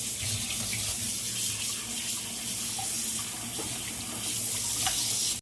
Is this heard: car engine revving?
no